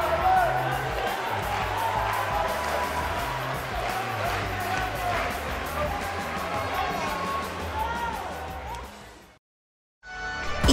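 An arena crowd in the wrestling video game WWE 2K18 cheers and whoops loudly and continuously after a one-on-one match, then drops to a short silence near the end before the noise returns.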